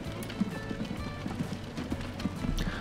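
Horse-drawn carriages in the Transport Fever game clatter with a steady clip-clop of hooves over a busy ambient bed, the hoofbeats fairly close and distinct throughout.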